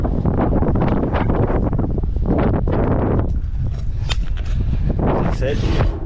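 Strong gusts buffet the microphone outdoors on a farm during a cold change, a loud continuous roaring rumble with irregular bursts and crackles filling the whole clip.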